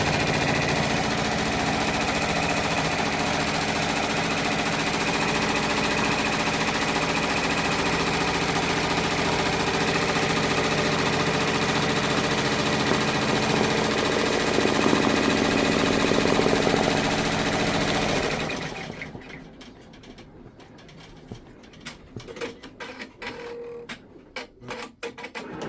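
A multi-needle embroidery machine stitches a final outline in a loud, continuous rapid mechanical chatter for about eighteen seconds, then stops abruptly, leaving scattered light clicks and knocks.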